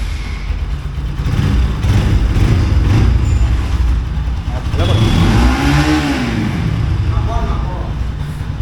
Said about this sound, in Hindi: अच्छा बाइक का साउंड भी सुन लो।